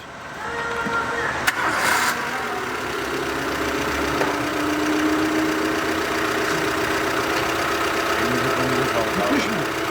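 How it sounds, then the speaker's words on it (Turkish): A Renault Clio 1 with a 1.2 engine cranks and fires on a service lift, then runs at a steady idle with a rough, slightly knocking note, a sharp click near the start and voices talking over it. "Araca marş yapıyoruz"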